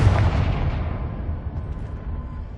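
A Confringo fire spell explodes in Hogwarts Legacy, a loud booming blast up front that rumbles and crackles as it slowly fades over a couple of seconds, with no talking.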